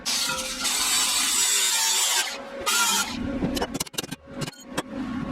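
Cutting tool slicing off old exhaust hangers beneath a car, a loud harsh grinding run for about three seconds, followed by a brief burst and then a series of sharp clanks and knocks.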